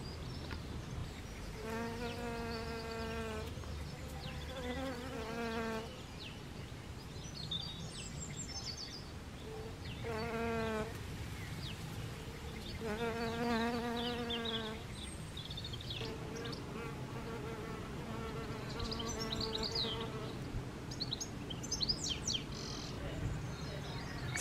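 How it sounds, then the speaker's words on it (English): Hairy-footed flower bees buzz around a clay bee hotel in repeated close, droning bursts of a few seconds each, with faint birdsong chirping in the background. "hairy-footed flower bees."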